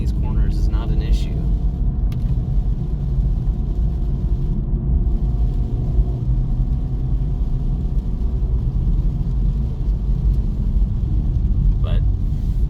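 Acura Integra Type S cornering on wet roads, with a steady loud low engine and road rumble from inside the cabin, continuous throughout with light hiss from the rain-soaked tires.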